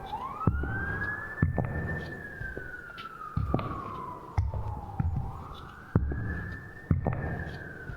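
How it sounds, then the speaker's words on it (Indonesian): A police car siren wails in long rising and falling sweeps, loud and fairly close, punctuated by regular heavy thumps. "Tuh, ada suara polisi, guys."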